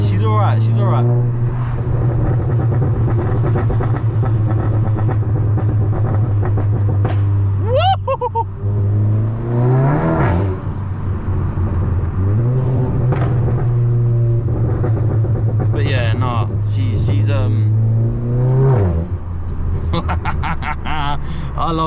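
Volkswagen Golf GTI MK7.5 driving and accelerating, a steady engine drone that rises in pitch through the gears with repeated upshifts, heard from inside the cabin while someone talks over it.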